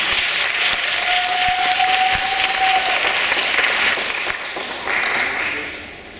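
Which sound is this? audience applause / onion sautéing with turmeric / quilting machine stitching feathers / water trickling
audience applause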